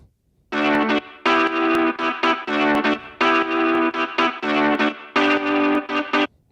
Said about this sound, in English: I have a reverb on here, and I wanted to bring the reverb out